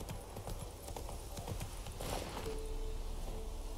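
Horse hooves clip-clopping steadily in The Witcher 3 video game, a continuous close rhythm of hoof strikes with a brief whinny-like tone partway through and a voice talking faintly underneath.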